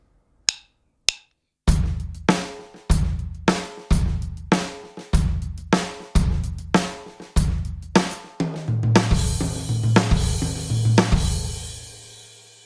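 A drum kit plays an Indian rhythm pattern grouped 4-4-4-3, with sharp, evenly spaced hits that turn into denser strokes and ringing cymbals, then fade; a couple of soft taps come first.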